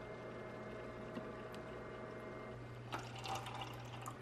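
Water pours steadily into a saltwater reef aquarium over a constant low hum of tank equipment, with a brief louder splash and bubbling toward the end.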